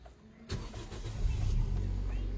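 A manual car's engine cranks and catches during a driving lesson, a sharp start followed by a steady, rising low rumble as it settles into a running idle close by.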